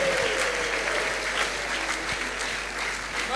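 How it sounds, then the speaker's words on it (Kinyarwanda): A church congregation applauds loudly and continuously, a dense, unbroken wash of clapping with faint high ululating cries mixed in throughout. "Mukomeze amashyi menshi, muvugirize impundu umwami w'abami"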